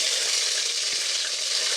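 Sliced onions for chicken biryani fry in hot oil with bay leaf, a loud, dense and continuous sizzle that holds steady throughout.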